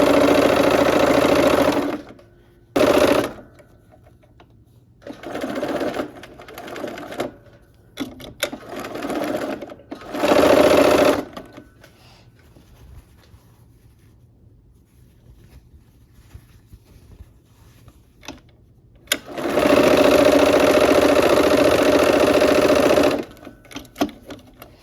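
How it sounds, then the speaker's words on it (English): A sewing machine stitching quilt fabric runs in short, close, loud bursts of rapid mechanical whirring, stopping and restarting several times with quiet gaps between, ending in one longer continuous run. "let's go ahead and sew this"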